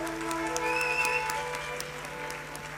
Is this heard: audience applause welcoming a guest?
yes